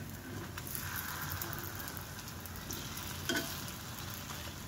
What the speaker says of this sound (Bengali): এটা ডুবো তেলেও ভাজতে পারেন, বা কড়াইতে তেল ব্রাশ করে নিয়েও ভাজা যেতে পারে।